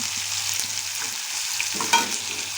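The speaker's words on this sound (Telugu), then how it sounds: "ఒక హాఫ్ స్పూన్ అయితే అల్లం పేస్ట్ వేస్తున్నాను ఇది కూడా ఫ్రై చేసుకోవాలి" Ginger paste frying in a pan, a steady close hiss of sizzling with faint stirring scrapes and one brief clink, no voices.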